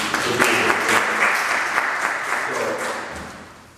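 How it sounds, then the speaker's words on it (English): A community audience at a forum on hyper-incarceration and recidivism applauds warmly, a dense wash of clapping that holds steady and then slowly tapers off. "So just give him a round of applause."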